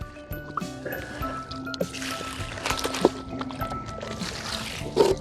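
Water sloshes and gurgles in a gold pan dipped in a shallow stream, with steady swirling, dripping and splashing, some scraping of gravel and a couple of sharper splashes, close and continuous.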